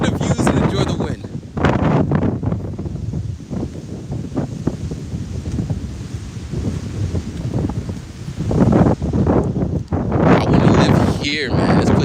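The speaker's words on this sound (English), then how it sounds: "just look at the views and enjoy the wind" Strong typhoon wind gusts and buffets the microphone outdoors in uneven, roaring surges, with a voice heard intermittently beneath the blowing.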